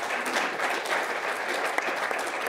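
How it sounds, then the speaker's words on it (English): An audience claps for the panelists at a wildfire awareness event in Big Sky, Montana. The applause is dense and steady, with no talking over it. "Please put your hands together for our panelists one more time."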